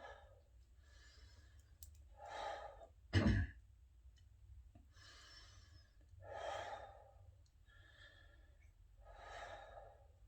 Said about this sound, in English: Shallow breaths.